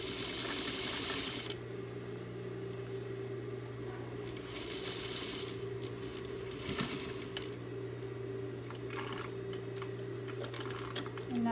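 A sewing machine stitching a fabric cylinder runs steadily throughout with a constant low motor hum and a fast mechanical needle rhythm, close and continuous with a few faint handling clicks.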